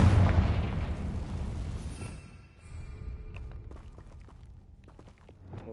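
A Confringo fire spell blast in Hogwarts Legacy, a loud booming explosion at the start that decays into a rumbling tail, followed by quieter scattered footsteps and small clicks.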